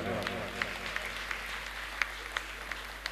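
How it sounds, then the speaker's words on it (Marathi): Audience applause at a book launch event, steady clapping from a modest gathering in a room with a low hum underneath and occasional sharper individual claps standing out. "सर्वांनी टाळ्या वाजवायच्या."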